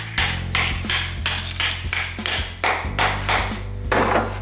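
A mallet strikes a bolt into a router table, about eight sharp, ringing taps in a steady rhythm over a low machine hum, close and fairly loud.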